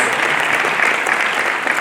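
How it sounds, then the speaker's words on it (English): Steady round of applause from a conference audience at an investment and jobs event in the Northern Cape, greeting a green hydrogen and ammonia energy project; dense, even clapping throughout. "Can we give Priska Power Reserve project a nice round of applause?"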